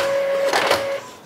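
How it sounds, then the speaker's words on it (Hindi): An Epson L3110 all-in-one inkjet printer printing a low-graphics document page, a loud steady mechanical whir with a sustained tone and a brief rise in rattle, heard close up. "तो कम ग्राफिक्स के साथ मैं अभी प्रिंट कर रहा हूँ"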